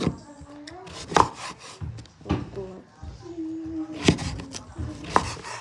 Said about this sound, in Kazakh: Міне, осы жермен тураймыз.